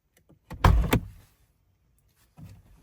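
A vehicle door fitted with automatic rock lights unlatches and swings open with a short clunk and rattle, followed by a quieter thud a moment later; no talking.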